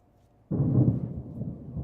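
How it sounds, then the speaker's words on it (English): Thunder rolls during a storm at sea in a naval warfare video game, a sudden low rumble that bursts in and then slowly decays over under two seconds. "And it sounds like we're in a storm."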